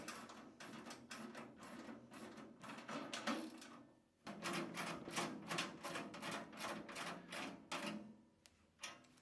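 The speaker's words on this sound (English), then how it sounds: "I'm just using the socket on the outside just to do a little bit quicker for you viewers" Socket wrench ratcheting rapidly while tightening bolts on a Hyundai HYCH700 wood chipper, two dense bursts of fast clicking separated by a brief pause, close but quiet, with no one talking.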